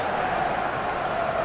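Stadium crowd noise from an eFootball match, a steady, dense roar of many voices with a faint sustained tone running through it, continuous and fairly loud throughout.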